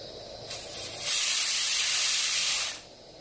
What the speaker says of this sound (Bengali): এবার গ্যাসটা চালু করে দিচ্ছে, প্রেসার কুকারটা বসিয়ে দিল। সিটি দেওয়া মোটামুটি স্টার্ট হয়ে গেল।